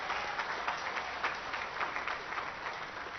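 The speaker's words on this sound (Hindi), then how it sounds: "चलो तालियों की गड़गड़ाहट से।" An outdoor crowd at a public event in Vikarabad claps steadily, dense and continuous, at moderate distance with no voices clearly standing out.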